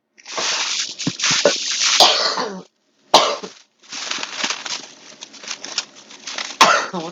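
A person coughs repeatedly at close range, harsh bursts in rapid clusters broken by a brief pause, then more rough coughing and throat-clearing.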